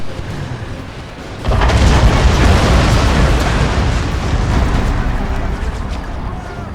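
Rocket cavalry barrages explode in a Shogun 2 battle against 600 US Marines, a sudden loud burst of continuous roaring blasts and crackling booms that carries on to the end.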